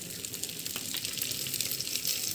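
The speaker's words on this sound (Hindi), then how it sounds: "तो दाल को भून लेंगे हम लोग" Rahar dal frying in a little oil in a pan, a soft, steady crackling sizzle, close and fairly quiet, with no talk.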